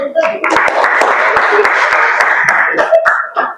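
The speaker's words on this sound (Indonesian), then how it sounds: "Tepuk tangan." A group gets applause after finishing its presentation: sharp, scattered handclaps burst out among loud overlapping voices and chatter, close by, before tapering off.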